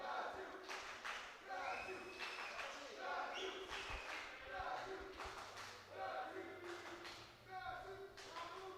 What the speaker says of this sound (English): You can hear now the Brazilian crowd